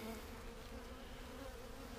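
Honeybees from a weak overwintered colony hum in a steady, close, low buzzing drone that stays constant and fairly quiet the whole time.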